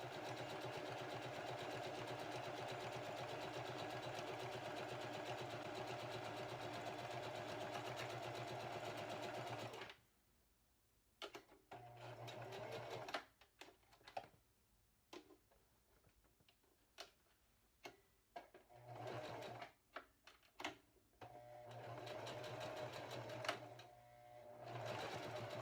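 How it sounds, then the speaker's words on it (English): A sewing machine topstitches a fabric zipper pouch, running steadily and loudly for about ten seconds, then stitching in short stop-start bursts with quiet gaps before a longer final run. "so I can do a nice top stitch on it"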